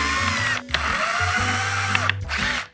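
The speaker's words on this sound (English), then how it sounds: "So now we're gonna go ahead and remove these 4 bolts right here." A power tool backs out bolts from a motorcycle dash, a close whirring drill motor running in short bursts with brief pauses and changes in pitch.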